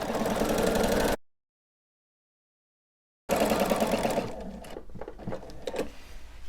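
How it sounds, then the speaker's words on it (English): A sewing machine quilts a line on a Rock Candy quilt with a rapid, steady stitching whir. It cuts out for about two seconds, then resumes and slows to sparse, softer stitches. "So I'm going to now repeat that line back on the pink side of the line"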